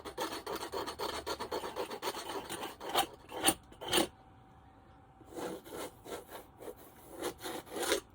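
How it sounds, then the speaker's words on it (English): A palette knife scratches into wet paint in rapid, rasping strokes close by, falling silent for about a second midway before the scraping resumes. "I'm going to scratch into it with my palette knife because I like the kind of scratches that happens with it."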